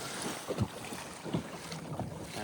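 Electric trolling motor pushing a kayak at just below full speed on open water in Christchurch Bay, a steady low drone blended with wind buffeting and small water slaps against the hull, no talk.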